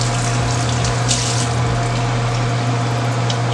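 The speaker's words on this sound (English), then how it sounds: "I mean, put more water to it." Running water from a tap splashes steadily onto Japanese candy in a sink, a continuous broadband rush with a low hum underneath, fairly loud and without talk.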